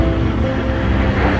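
Ocean waves of the East Sea roll onto a Vietnamese beach in a steady, loud wash of surf mixed with buffeting wind noise on the microphone.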